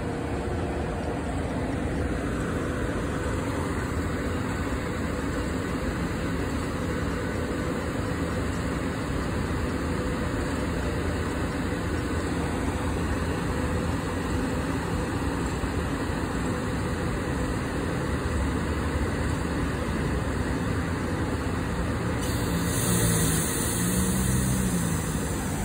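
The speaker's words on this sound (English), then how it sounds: "Hey, you see that septa train right here? It's a three car." A three-car SEPTA commuter train runs steadily nearby, with a continuous low rumble and engine drone for the whole stretch. Constant high-pitched tones sit above it, and the sound swells slightly near the end.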